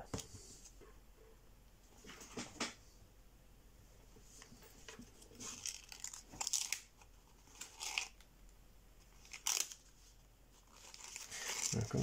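Paper creased and flattened while folding an origami bighorn sheep, with soft crinkles and sharper crackling taps coming in short bursts, close and fairly quiet.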